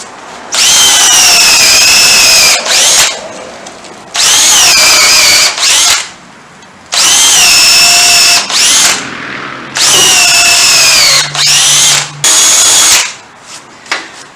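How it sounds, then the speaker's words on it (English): An antique power drill with a 1/2 inch spade bit whines loudly in several long bursts separated by short pauses, grinding through wood for a mailbox post with a rising, straining motor pitch. "1/2 inch spade bit, antique power drill."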